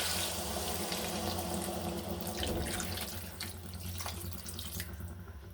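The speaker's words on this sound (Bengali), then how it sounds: "ঢেলে দিচ্ছি তো জল।" Water pours steadily and close by into a cooking pot holding eggs, soybean, potato and papaya, a continuous splashing rush that fades slightly toward the end.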